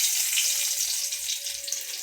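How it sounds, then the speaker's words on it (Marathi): Garlic frying in a pan, a bright steady sizzle heard close up with a faint low tone underneath, brief and without speech. "लसूण टाकला बरं का"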